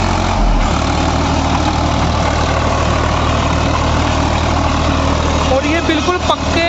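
A brand-new Swaraj 855 tractor engine runs with a steady, loud, low idling rumble throughout, close by, with a brief shift in tone near the end.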